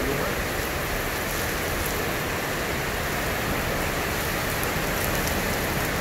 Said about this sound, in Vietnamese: quý bà con thấy bao coi như là mưa bão kinh khủng luôn